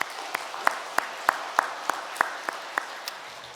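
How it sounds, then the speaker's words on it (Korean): Sunday church congregation gives steady, evenly paced clapping to welcome a new member, crisp individual claps ringing out in a quiet room. "따뜻한 박수로 맞이하도록 하겠습니다"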